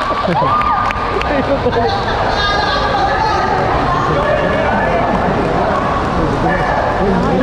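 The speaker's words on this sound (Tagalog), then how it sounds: "Pumalakpak na kayo." Spectators at an American Bully dog show cheer and shout in a loud, continuous roar of crowd noise and excited voices from ringside, with speech mixed throughout.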